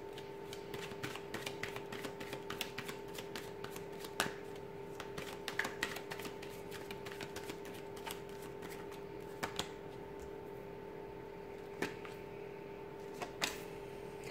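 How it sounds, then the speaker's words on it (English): Tarot cards being shuffled in a quiet room, soft riffling with sharp snaps and taps at irregular moments over a faint steady hum. "give the cards a shuffle here"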